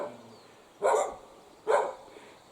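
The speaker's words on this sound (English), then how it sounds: "Our left hand side, we've got a few dogs there" Dogs at rural kennels on a countryside walk give two sharp, mid-distance barks about a second apart, with a third starting at the end, over quiet outdoor background.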